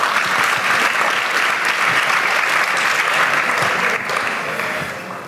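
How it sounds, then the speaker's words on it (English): Sustained audience applause at a conference opening ceremony, steady and dense throughout, many hands clapping close up, fading slightly toward the end with no talk over it. "So a round of applause for Michael's couch sessions"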